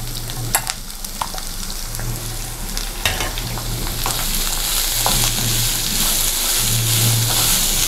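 Onions, green chilies and curry leaves sautéing in a pan, giving a steady, close sizzle with occasional light stirring clicks and a low hum underneath.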